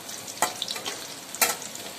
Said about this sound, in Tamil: நம்ம வச்சுருக்க இஞ்சி, பூண்டு, பட்டை, லவங்கம் எண்ணெயிலே நல்லா வதங்கணும்.